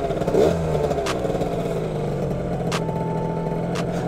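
A scooter engine runs steadily while riding, a continuous mid-pitched motor drone with a brief louder surge near the start and a few faint clicks.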